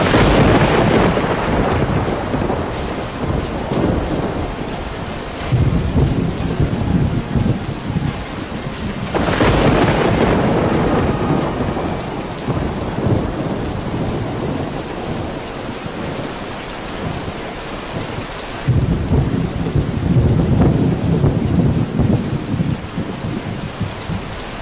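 Heavy thunderstorm rain in Delhi pours steadily, broken by three loud, rolling thunderclaps spaced roughly ten seconds apart, with no one speaking.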